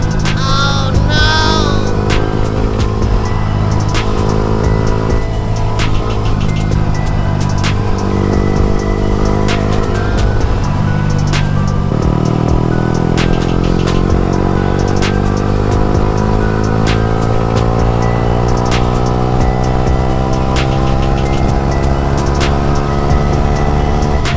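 A Yamaha R15 motorcycle engine drones steadily while being ridden on an open road, its pitch rising and falling with gear changes and acceleration, loud and continuous with wind rushing throughout.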